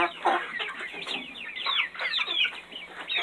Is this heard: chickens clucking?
yes